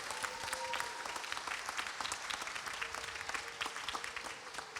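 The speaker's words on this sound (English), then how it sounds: "Big hand of applause, everybody." Steady applause from the crowd at an annual people's assembly, sustained clapping throughout with a faint tone running underneath and no talking.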